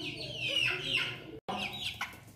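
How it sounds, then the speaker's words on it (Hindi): Chickens and a rooster, including Aseel fowl, cluck and call close by in a steady run of bright, overlapping clucks with no talking, cut by a short gap of silence. "ये हमारा मुर्गा है"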